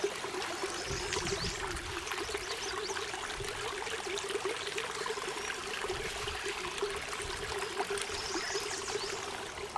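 Steady rushing and trickling of Black Earth Creek flowing along a hiking trail, continuous and fairly close with no voices.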